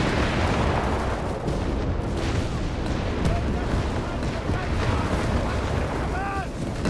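Loiter strike explosions in Company of Heroes 3, heavy rumbling booms and blasts piling into a continuous loud barrage, with brief whistling sounds near the end.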